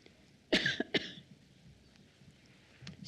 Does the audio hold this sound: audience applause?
no